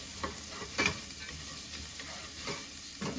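Potatoes and chickpeas sauté in a pan while being stirred, giving a faint, steady sizzle broken by a few soft scraping strokes of the spoon.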